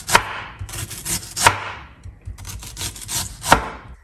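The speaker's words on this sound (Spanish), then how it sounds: "vamos a empezar a cortar nuestra cebolla" Knife chopping onion on a cutting board: a few sharp, close knocks of the blade against the board, separated by softer slicing and rubbing sounds, with no talk.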